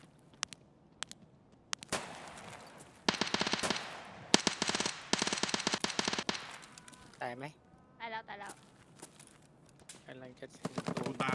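Gunfire in Escape From Tarkov crackles in rapid automatic bursts and scattered single shots, loud and close, with players talking between and over the shots.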